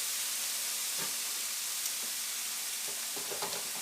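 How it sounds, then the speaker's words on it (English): Vegetables fry in hot bacon grease in a pan, giving a steady, close sizzle with a few soft stirring scrapes and no talk. "And these are going to go in the pan. And it's hot. We're going to cook it in that bacon grease."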